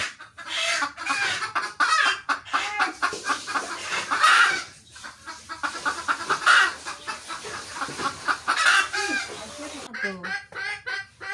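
A handful of egg-laying hens clucking repeatedly in a rural home, rhythmic bursts of calls close by, mixed with people talking nearby.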